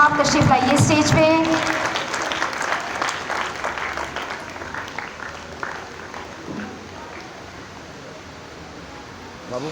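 An indoor audience claps for an honoree at an Independence Day ceremony in a provincial office in Karachi, with loud, dense applause at first that gradually thins and fades, while someone speaks over it.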